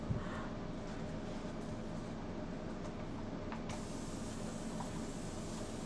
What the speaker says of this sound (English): Just gonna spray it.